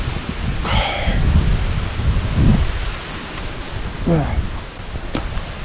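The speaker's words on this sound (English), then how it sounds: "it's starting to rain" Rain starts falling outdoors as a steady broadband hiss with rustling and gusty wind noise, under brief bits of nearby speech.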